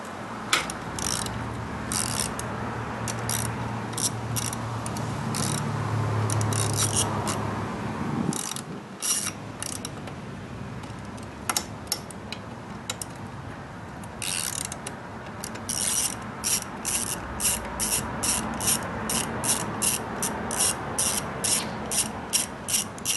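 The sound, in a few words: unscrewing bolts on Chinese scooter rear wheel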